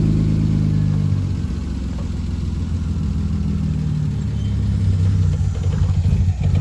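A BMW E36 engine runs steadily nearby while its gears are tested, a low rumbling idle with slight rises in revs, continuous and fairly loud with no talk.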